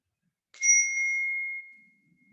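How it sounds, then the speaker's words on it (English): A meditation bell is struck once, giving a clear bright ring that sustains and slowly fades into near silence, with nothing else sounding. "And hear the sound of the bell."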